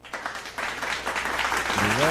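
A live audience at a talk show claps and cheers in a sustained burst of applause that grows fuller and louder, with voices mixed in near the end.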